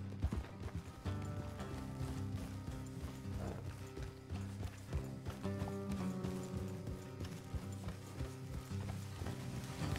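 Horses move along at a steady pace in the Western video game Red Dead Redemption 2, with rhythmic hoof clip-clop and rattling tack over a continuous bed of game music and ambience, with no talk.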